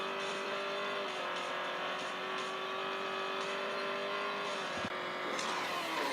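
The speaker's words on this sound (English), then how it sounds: "the car is doing a 180-degree spin" A race car engine in Real Racing 3 drones steadily and loudly throughout, with a brief tire squeal as the car spins around mid-track.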